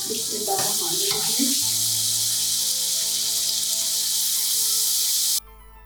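Steaks fry in a hot pan at home, cooked to 160 degrees for well done, giving a loud, constant hiss and crackle. A voice is heard briefly at the start, and the sizzle cuts off abruptly near the end.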